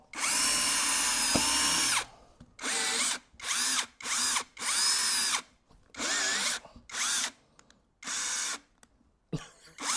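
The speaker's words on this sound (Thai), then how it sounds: "เราต้องไปเจาะนำร่อง" A cordless drill whirs in a long burst drilling a pilot hole, then runs in a series of short, loud bursts separated by brief pauses, with a faint ratcheting click.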